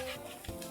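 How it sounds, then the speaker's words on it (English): Onion tomato masala being stirred and scraped around a pan for an Indian gravy base, a short soft scrape over a faint sizzle, close and quiet, with no voices. "I'm scraping this pan completely and get the masala all together."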